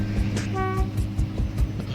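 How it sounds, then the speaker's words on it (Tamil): A train rumbles slowly across the Pamban sea bridge, giving a brief horn toot over the steady rolling clatter of the wagons. "பாருங்கள், பாம்பன் பாலத்தில் ட்ரெயின் வரதை நீங்கள் பார்த்துட்ருக்கீங்க."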